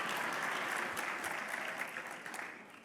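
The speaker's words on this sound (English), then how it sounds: "thank you, all 4 of you who have applauded" A small audience at a political conference gives a short burst of applause, a fairly faint, thin patter of clapping that fades out.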